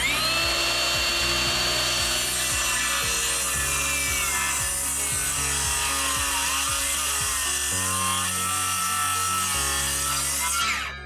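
A saw cuts through two pieces of timber at once to form half laps, a close, continuous grinding cut with a shifting whine that holds steady until it stops abruptly at the end.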